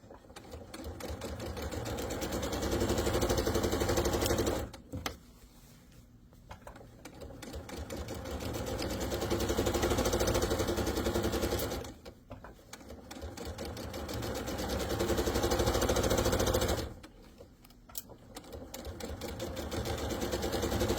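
A sewing machine stitching a pillowcase runs in three long continuous bursts of steady, even whirring, with brief pauses between them.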